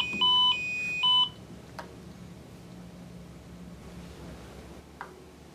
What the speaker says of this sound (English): wait for one beep